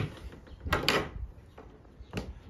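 A wooden shed door is unbolted and opened, giving a couple of short knocking and rattling clunks with a brief scrape, close and fairly quiet against a soft outdoor background.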